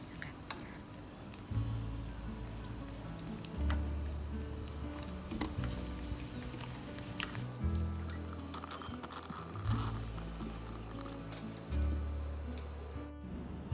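Chinese sausage fries in a pan with water, giving a steady close-up sizzle and crackle with soft recurring low bumps of the pan being moved or stirred throughout.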